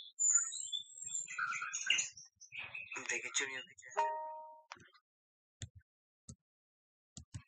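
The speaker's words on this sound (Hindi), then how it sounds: "देखिए चिड़ियों की चहचहाट भी सुनाई दे रही है भाई यहाँ पर" Bright bird chirps and tweets mix with a person talking quietly, followed by a few sparse clicks in near silence.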